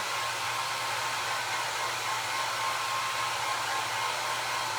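Steady, loud whoosh of a hair-dryer-style blower drying antiquing glaze on a craft piece, running continuously and alone at an even level throughout.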